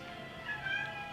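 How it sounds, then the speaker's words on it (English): A house cat gives a few faint, drawn-out meows against a quiet indoor background. "Don't mind the kitty."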